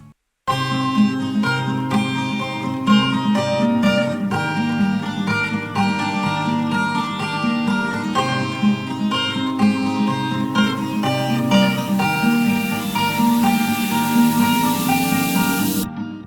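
Two recorded guitar lines, a melody and its counter melody, play together in a dense, continuous layered texture of plucked notes. The sound is full and steady, ringing out at the end, with no speech.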